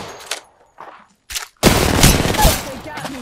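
Gunfire in an Apex Legends 1v1 match: a few scattered shots and brief voices, then a loud sustained burst of rapid shots that fills the rest.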